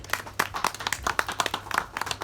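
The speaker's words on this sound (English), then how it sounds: "huge round of applause" Audience applause at a magazine cover unveiling event: a short, dense patter of hand claps from a crowd, fairly close and moderately loud, with no talk over it.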